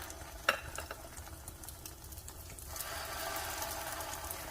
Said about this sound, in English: Here I have a preheated pan with just a little bit of oil. It's going to be a shallow fry